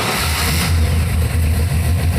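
A stock car engine rumbles loudly nearby, starting, revving up and settling into a rough, throaty idle with fluctuating intensity.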